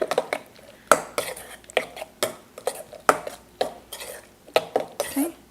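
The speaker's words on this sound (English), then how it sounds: "you're just gonna go ahead and stir that up" Spoon or utensil clattering and scraping against a bowl while onions are stirred into a seven-layer dip mixture, a steady run of close, sharp knocks and clinks with no talking.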